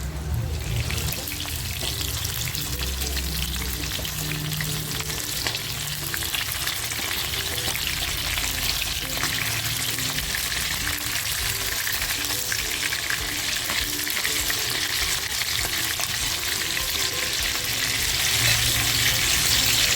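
Chilli garlic prawns fry in a pan, Chinese style, with a loud, steady sizzle and crackle close up, sometimes with a light scrape as the pan is gently swirled; no one speaks.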